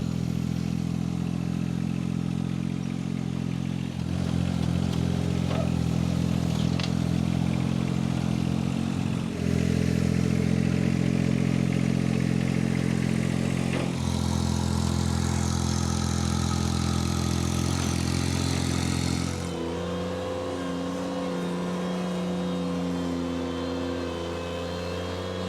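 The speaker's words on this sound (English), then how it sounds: "Bobby used the Johnny X, the 1025R here, to backfill the bigger part of the trench" A John Deere 1025R compact tractor backfilling a trench, its small diesel engine running steadily nearby with clattering and shifts in pitch and load as it works, no talk.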